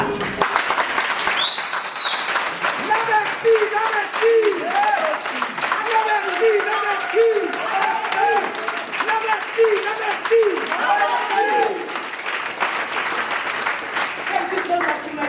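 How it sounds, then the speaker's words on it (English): A standing audience applauds at an exhibition speech on indigenous land rights, steady crowd clapping that runs continuously while someone talks over it. "Join me as we raise a hand of applause for Ouma Katrina."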